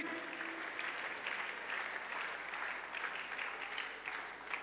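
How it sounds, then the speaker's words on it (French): Sustained applause from an audience at an evangelistic crusade with healing and deliverance, steady and dense throughout, fairly distant with a crowd wash behind it. "Yes, continue to clap, clap."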